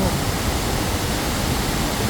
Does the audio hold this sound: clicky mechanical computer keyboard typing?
no